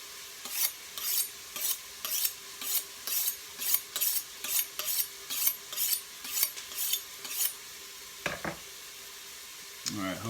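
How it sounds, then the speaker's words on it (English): Garlic and onion sautéing in a pan, heard as a steady, rhythmic scrape of a utensil stirred through the pan about a dozen times over a soft, constant sizzle, followed by a few brief clatters. "hopefully the sauteing noise in the background isn't going to mess with the audio too badly"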